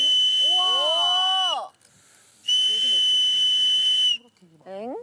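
Two long, shrill whistle blasts, each lasting about a second and a half, separated by a brief pause with a voice murmuring between and after.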